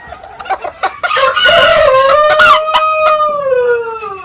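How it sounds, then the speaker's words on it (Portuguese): A mini garnisé bantam rooster gives a few short clucks, then crows in a long, loud, close call that trails off at the end. "Esse é um galinho um pouquinho mais assustado, vamos ver se ele vai"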